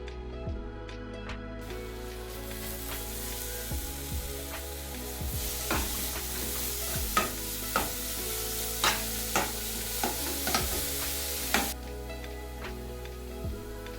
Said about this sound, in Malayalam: ശർക്കര വീണ്ടും ചെറിയ ചൂടിൽ ഇളക്കി അതിലേക്ക് തേങ്ങ ചിരകിയത് ചേർത്തിളക്കുക